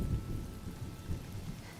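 Rain and rolling thunder in Honkai: Star Rail, a dense low rumble with a steady hiss of rainfall, continuous and heavy, with no voices.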